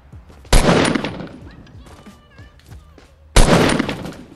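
Two heavy shotgun blasts in Fortnite Battle Royale, each a loud close boom with a decaying tail, about three seconds apart, with quieter game sounds and chatter between them.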